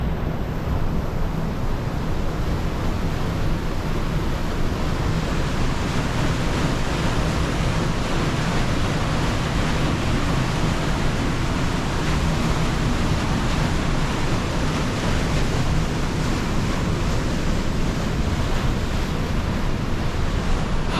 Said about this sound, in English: How the water is making her own way.